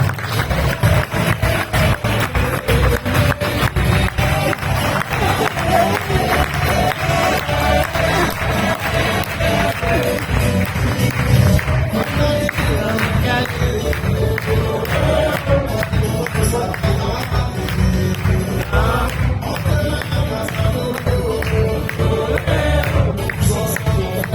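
An audience at a presentation event applauds to welcome a speaker, long continuous clapping with rapid irregular hand strikes and crowd shuffling, sustained and fairly loud throughout.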